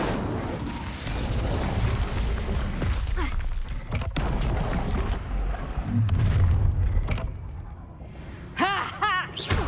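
The Incendio fire spell from Hogwarts Legacy sounds as booming, fiery blasts amid dense combat noise. A rolling roar swells midway, then sharp bursts follow near the end.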